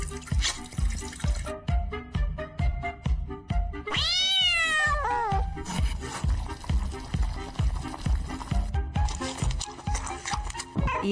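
A cartoon thief cat lets out a loud, drawn-out, wavering meow partway through, set against a steady rhythmic beat and splashy water-like sounds.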